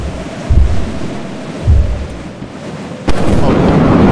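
Thunder cracking during a storm in the video game Lethal Company, a series of deep booming rumbles and sharp hits over steady rain-like noise, loud and close.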